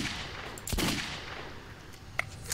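A single gunshot from a Metro 2033 weapon cracks out sharply, followed by a short ringing tail and a fainter pop near the end against a quiet hum.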